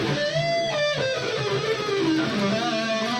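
Electric guitar on the neck pickup of a Fernandes Monterey Elite with the sustainer switched off, a loud distorted run of bending, sliding notes played alone without talk.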